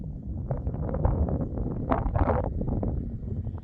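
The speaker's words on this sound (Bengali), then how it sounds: "ঠান্ডা, বেশ ভালোই হাওয়া দিচ্ছে।" Cold, gusty wind on a snowy mountain pass near Rohtang buffets the microphone in a steady, rough rumble with brief louder surges, no voices present.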